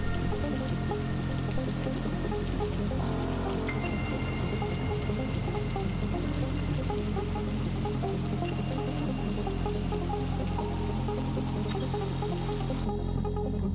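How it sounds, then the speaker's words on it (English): Steady rain patters and hisses continuously, a dense wash of drops with a low rumble underneath and no voices. "It's starting to rain more."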